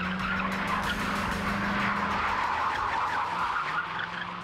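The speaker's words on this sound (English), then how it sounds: "we wanted a shot where Keanu would slide a 90 right up into camera" A car skids into a sharp 90-degree slide during stunt-driving practice, its tires squealing loudly over a droning engine note that fades as the slide ends.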